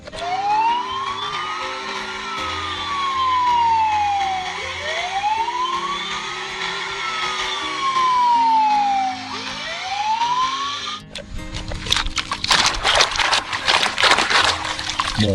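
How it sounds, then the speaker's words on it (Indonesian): A fire truck siren wails in long, rising and falling sweeps, loud and close, for about eleven seconds, then gives way to a burst of broadband clatter and noise. "Mobil pemadam kebakaran."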